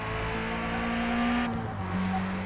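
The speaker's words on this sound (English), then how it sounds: "Braking. This is a hairpin, so it's quite sharp." Race car in Forza Motorsport braking hard into a sharp hairpin, engine tone dropping as it slows, loud and steady with a brief tire whine, alone without talk.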